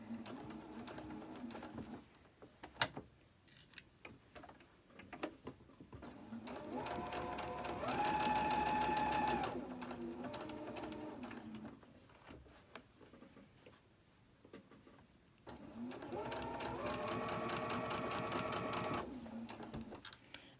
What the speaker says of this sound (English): Let's go ahead and chain stitch all of these